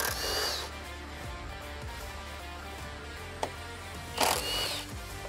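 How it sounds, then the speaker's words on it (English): A power tool whirs in two short bursts, near the start and again after a pause, while removing 8 mm bolts from the grille of a 2021-or-newer Ford F150. Quiet handling noises fill the gap. "Now I'm going to remove the 2 8 millimeter bolts here"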